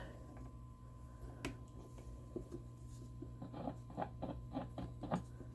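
A switched-on amplifier gives off a steady low electrical hum, faint and continuous, with scattered small ticks and clicks over it and no talking.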